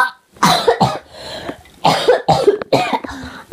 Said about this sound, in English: I am bad at coughing, too, and that's not even possible, but I'm bad at it